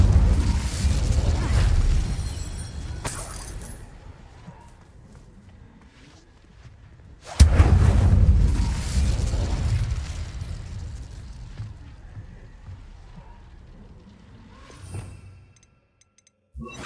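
Fire spell explosions in the video game Hogwarts Legacy: two loud booming bursts, each fading into a long rumbling roar, the second sharper and louder, followed by a short pop and a brief silence.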